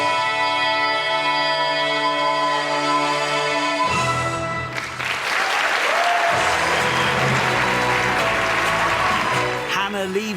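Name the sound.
huge applause as performer leaves stage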